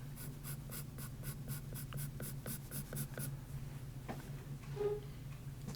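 Charcoal on paper: a quick rhythmic run of about a dozen short, crisp scratching strokes, close and fairly quiet, followed by a few slower, scattered scrapes.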